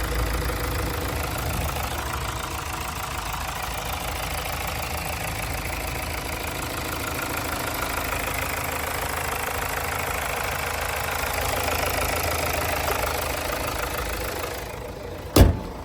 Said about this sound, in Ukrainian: Двигун працює просто ідеально.